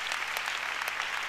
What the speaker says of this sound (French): acclamons le Seigneur pour ça